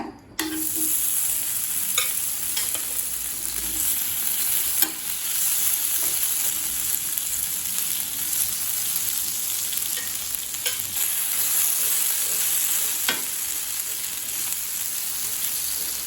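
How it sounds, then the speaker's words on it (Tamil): Raw plantain slices fry on a flat dosa pan over a medium flame, giving a steady close sizzle with occasional sharp pops and light scraping clicks. "அடுத்தது நம்ம வாழைக்காயை வறுக்க ஆரம்பிச்சிடலாங்க"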